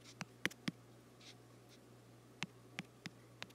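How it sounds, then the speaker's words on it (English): Sparse, faint key taps on a keyboard, a few isolated clicks and short pairs spread out with quiet gaps, close and soft over a low steady hum. "I'm gonna type it."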